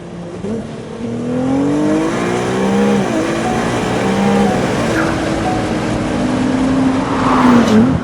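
A Ferrari 296 GTS V6 in race mode drones loudly from close by, its engine note rising and dipping through gear changes and throttle shifts, then climbing at the end, with no talk over it.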